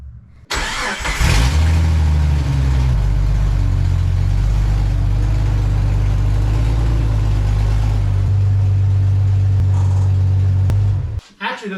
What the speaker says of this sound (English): Let's see how obnoxious the Jeep sounds with straight exhaust.